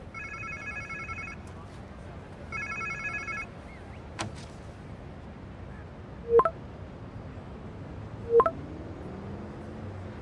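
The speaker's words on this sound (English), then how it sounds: "Sounds like somebody's phone." A phone rings in Marvel's Spider-Man 2 on PS5 with two clear electronic trill bursts, followed by quieter scattered clicks and two brief metallic chimes over low game ambience.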